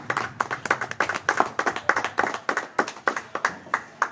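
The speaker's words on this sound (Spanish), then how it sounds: "¿Cuántos pueden darle un fuerte aplauso al Señor en esta noche?" A church congregation claps steadily in a brisk, even rhythm, many hands together, fairly close and sustained throughout with no talking over it.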